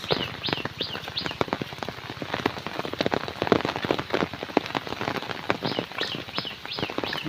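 Steady rain falls outdoors on a morning near a village river and farm fields, a dense continuous patter with a few faint bird chirps above it.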